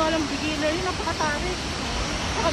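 Steady roar of water pouring down at Hidden Falls, a broad continuous wash that fills the whole clip while a voice speaks faintly over it.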